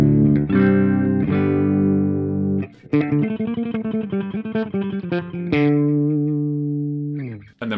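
PRS S2 semi-hollow electric guitar through a Marshall Valvestate hybrid amp on a clean tone, with sustained ringing chords, a run of quicker picked notes, then more held chords, played alone.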